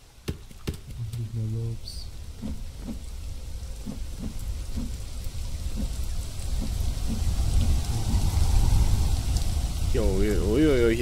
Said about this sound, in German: Zieht ja ein richtiger Sturm auf.